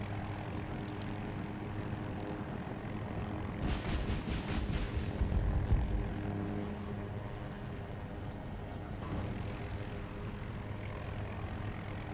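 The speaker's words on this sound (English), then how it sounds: "That's enemy plane." An enemy aircraft in Battlefield 2042 roars overhead amid constant in-game engine rumble, swelling louder for a couple of seconds before receding into the steady drone.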